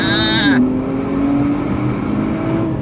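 A modified 2025 Nissan Z Sport engine revs and pulls away from a rolling start in first gear at 2,000 RPM, its tone climbing steadily, with a voice talking over the start.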